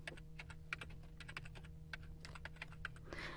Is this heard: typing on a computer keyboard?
yes